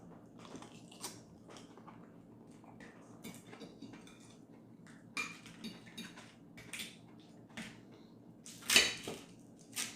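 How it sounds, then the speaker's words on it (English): Knife and fork slicing through a fried egg on a plate for huevos rancheros, with light scattered clinks and scrapes of metal on the plate and one sharper clatter near the end, close and fairly quiet. "give the egg a nice slice so the yolk starts to run"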